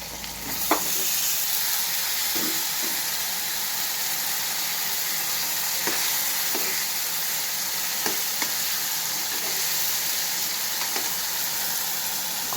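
Tomato frying with potatoes, onion and garlic in a pan for a small home curry, a steady close sizzle with occasional stirring clicks and scrapes throughout, no talking.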